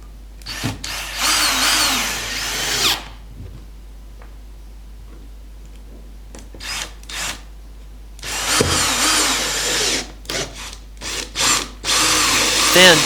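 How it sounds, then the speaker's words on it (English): Power drill with a 3mm bit boring holes through two screwed-together wooden boards, in two loud sustained bursts of whirring with short stops between, separated by a quieter stretch of faint handling noise. "using a 3mm drill bit, drill the 3 holes down either side all the way through both boards"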